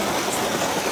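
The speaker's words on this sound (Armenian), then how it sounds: "այս ահավոր ձևի անձրև է գալի" Heavy rain pouring down outdoors in Armenia, a dense, steady hiss of falling water filling the whole moment, fairly loud and unbroken, with no voices.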